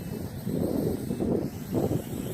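Gusty outdoor wind buffets the microphone near a small JJRC H33 quadcopter in flight, coming in low, rumbling surges that rise and fall in three or four waves over a faint steady whine.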